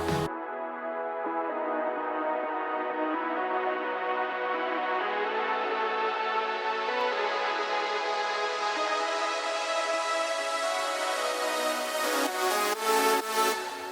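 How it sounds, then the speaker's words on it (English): Electronic dance track build-up with the vocal removed, a dense sustained synth bed with a melody gradually filtered in and brightening across the stretch, loud and continuous with no talk. "you'll hear the melody that gets filtered in, and it feels like an introduction to the actual drop"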